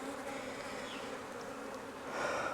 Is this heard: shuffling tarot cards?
no